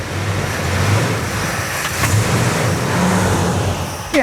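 A 1970 Plymouth Superbird engine turns over and runs with a low, steady rumble, its revs rising and falling in a few swells over several seconds, loud and close without any voices.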